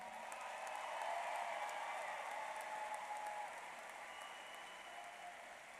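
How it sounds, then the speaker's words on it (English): A crowd applauds steadily at a high school graduation commencement, a dense wash of clapping that slowly eases off, heard from a little distance. "let's give them that round of applause"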